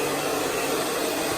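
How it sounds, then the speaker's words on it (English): A hairdryer blows a loud, steady whooshing stream of air during a salon blow-dry, close and continuous with no pauses. "airflow of the hairdryer, until they're nice and smooth"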